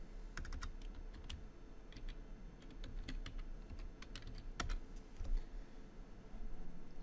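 Keys clatter on a computer keyboard while a password is typed at a Windows Server 2012 virtual machine login, a quiet run of uneven clicks in small bursts over a faint room hum.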